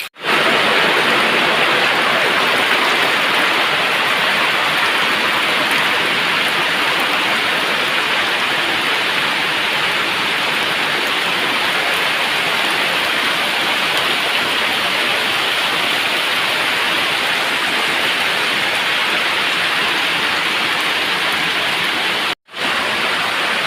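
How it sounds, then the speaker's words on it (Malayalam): Heavy rain pouring down steadily, a dense, loud, continuous roar of falling water that stays even throughout with only a brief break near the end and no talk. "ഇവിടെ ഭയങ്കര മഴയാണ് കണ്ടില്ലേ നല്ല മഴ ഇപ്പോൾ ശബ്ദം കേട്ടാൽ തന്നെ അറിയാം നല്ല മഴ പെയ്തിട്ടുണ്ട്"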